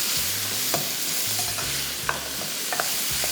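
Raw pasta fries in a pan with a dense, continuous sizzle while it is stirred, with scattered scraping clicks and faint low tones under the frying, close and steady without voices.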